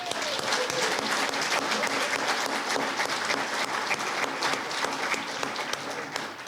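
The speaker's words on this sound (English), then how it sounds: "Let's give them a round of applause." Audience applause at a 2020 State of the City address, a dense, steady round of clapping from a large crowd that holds at an even level for the whole stretch, easing only slightly at the very end.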